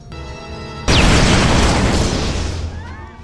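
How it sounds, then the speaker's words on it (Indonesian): A bomb strapped to a man's body detonates in a film, a sudden loud booming blast after a short musical lead-in, followed by a long rumbling decay. "tiba-tiba saja ia meledakkan dirinya sendiri dengan bom yang sudah menempel di badannya."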